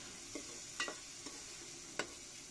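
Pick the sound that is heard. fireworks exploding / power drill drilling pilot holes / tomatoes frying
tomatoes frying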